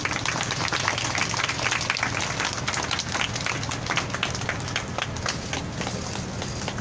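An audience at the Wednesday demonstration in Korea applauds steadily, a dense, sustained wash of clapping from many hands outdoors, even in loudness throughout.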